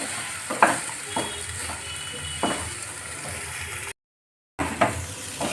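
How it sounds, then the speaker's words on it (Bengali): Vegetables being stirred in a hot pan during cooking, with a steady sizzle and repeated spatula scrapes and knocks close by, broken by a short gap of silence. "এবার ভালোভাবে নাড়াচাড়া করে নিতে হবে।"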